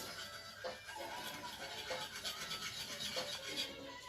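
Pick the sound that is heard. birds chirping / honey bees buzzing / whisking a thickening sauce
whisking a thickening sauce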